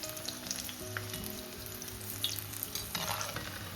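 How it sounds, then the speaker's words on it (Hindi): Momos frying in hot oil give a continuous bubbling sizzle, with occasional soft clinks and scrapes from stirring; fairly close and moderately quiet. "बस ऐसे बीच बीच में हिलाते जाएंगे ताकि एक जगह मोमो लाल ना हो"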